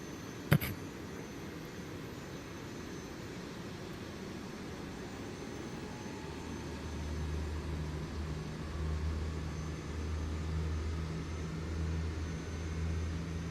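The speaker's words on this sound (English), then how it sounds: "So let's go ahead, engine start. And we're going to start engines 4 and 1." FlyByWire Airbus A380 engines start in Microsoft Flight Simulator 2024, beginning with a sharp click, then a low rumble that gradually rises and holds under a faint steady whine, with no talking.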